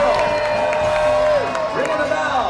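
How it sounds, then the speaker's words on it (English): Audience at a family animal show in Hollywood, Los Angeles, cheering and whooping loudly with mixed clapping, a busy close crowd roar with voices rising and falling throughout. "you guys need to make as much noise as possible. Cheer him on."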